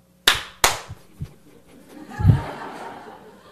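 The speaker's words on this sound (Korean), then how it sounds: "저 조금 전에 박수 치는 소리 들으셨나요?" Two sharp, close claps in quick succession, followed by a few fainter hand sounds and a soft burst of chuckling and murmured voices from a church audience.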